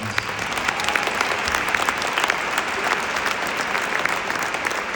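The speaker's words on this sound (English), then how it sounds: "Can you give yourself a round of applause?" An audience at a large convention in Brussels claps steadily and densely for the whole stretch, a full room of applause with no pauses.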